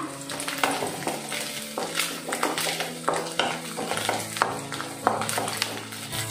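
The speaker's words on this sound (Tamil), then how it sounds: "இப்போ அதை லைட்டாக வதக்கிக்கலாம்" Garlic sautéing in oil in a pan for garlic dosa, a close crackling sizzle broken by repeated scraping stir strokes at an uneven pace.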